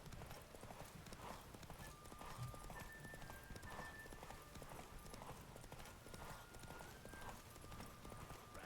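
Hooves of the horse Roach pound in a fast, steady gallop during a derby race in The Witcher 3, a continuous rhythmic clip-clop with faint voices behind it.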